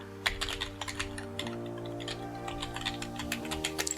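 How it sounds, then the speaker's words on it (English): Rapid keystrokes on a computer keyboard while an email address is entered, a steady run of close, crisp clicks over a soft tonal hum. "I can start typing, and I'm going to do this directly on the keyboard"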